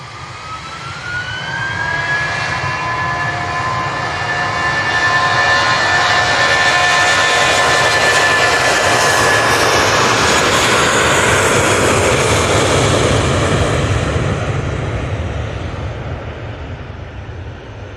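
Jet airliner taking off from Manchester Airport, its engine roar swelling into a loud, sustained rumble with a rising whine, holding strong before easing slightly as it departs.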